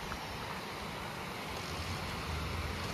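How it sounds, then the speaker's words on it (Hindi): Water pouring down at Lakhaniya Dari waterfall near Ahraura, Mirzapur, a dense, steady roar of falling water that fills the whole span without pause or talk. "ये देखिए पानी की गिरती हुई आवाज"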